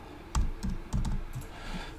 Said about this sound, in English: we can start typing over this